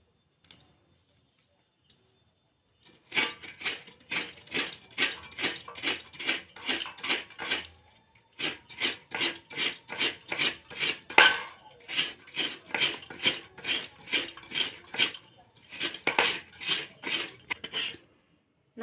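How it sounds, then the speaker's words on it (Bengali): A coconut is grated by hand for bhapa pitha filling, giving a long run of rhythmic, evenly spaced rasping scrapes that start after a quiet opening and pause briefly twice, close and clear with no talking. "নারকেলটা পুরোপুরি কোড়ানো হয়ে গেছে।"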